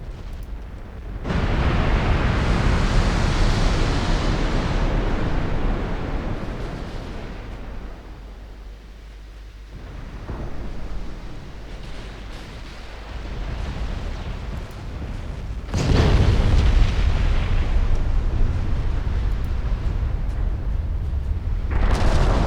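Long rolling barrages of explosions from a flash fire attack on London in a strategy game: dense, sustained booming that dips and thins midway before a second loud surge of blasts, with no talk.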